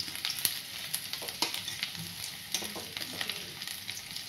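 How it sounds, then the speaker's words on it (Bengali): Ginger and garlic paste fries in oil with a steady sizzle, punctuated by frequent scraping and tapping of a spatula stirring the pan, close and alone. "সুন্দর করে এবার আমি গ্রেন করা আদা বাটা রসুন বাটা দিয়ে দিলাম। এগুলো আমি এবার লাল করে টাইম নিয়ে ভেজে নিব।"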